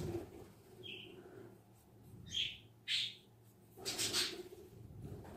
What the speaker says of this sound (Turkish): Benim kuş yine çıldırdı.